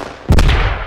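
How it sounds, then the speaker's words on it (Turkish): A rocket strikes nearby in the military shooter game Squad, a single sudden heavy blast that lingers as a rumbling decay, loud and close, with no talking. "Adam yanına roket yedi."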